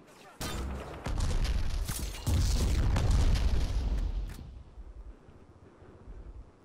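Explosion in the Xbox shooter Black: a heavy, loud boom rolls through the low end with crackling debris, followed by a rumbling tail that fades. Voices talk over the blast.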